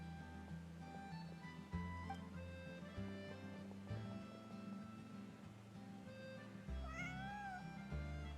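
A cat meows softly a few times in the Genshin Impact video game, the short rising calls heard faintly over steady background game music, with no talk.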